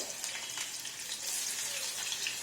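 Hilsa fish pieces fry in hot oil on a lowered gas flame, giving a soft, even, continuous hiss with no pops or breaks.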